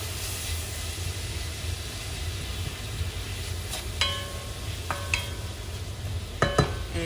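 Vegetables for Cuban-style chicken fricassee soften in a hot pan with a low, steady sizzle, broken by a few sharp clinks of a utensil against the pan near the end.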